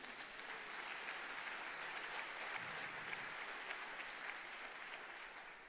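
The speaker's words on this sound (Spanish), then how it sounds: "¿Cuánto dan un aplauso al Señor?" Faint, distant applause from a church congregation during a sermon, a continuous crackle of many clapping hands holding steady throughout the short stretch.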